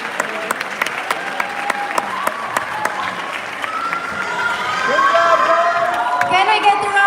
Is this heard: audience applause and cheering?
yes